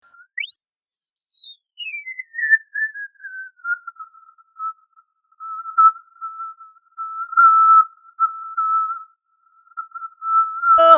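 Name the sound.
narrow EQ notch swept through the frequency spectrum of a vocal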